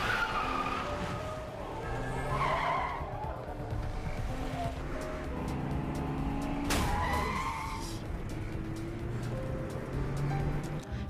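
Car chase in the Korean drama series My Name, with loud skidding and tire squeal under a dense music score, plus a sharp crash-like burst midway and engines revving throughout.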